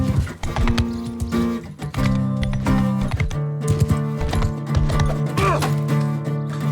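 Galloping horse in the medieval combat game Mount & Blade II: Bannerlord, its hoofbeats clattering in a dense rhythm amid loud battle noise, clashing and shouting, with a snort or whinny near the end.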